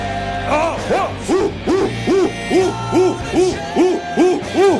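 Pupils in grades 5-7 at a school rugby-5 awards ceremony shout in rhythmic unison, roughly ten loud, regular chant bursts over a steady crowd roar.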